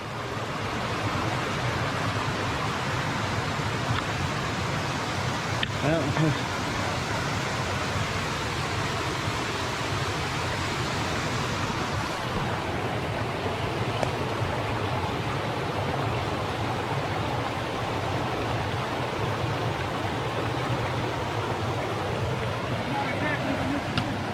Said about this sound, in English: We're gonna get this waterfall.